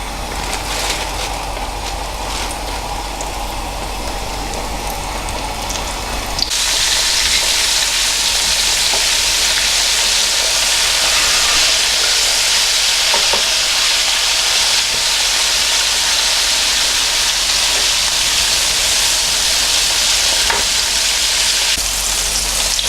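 Salt and pepper ribs deep frying in a batch: a quieter bubbling hiss, then a sudden jump to loud, dense, steady sizzling that continues unbroken with no talk.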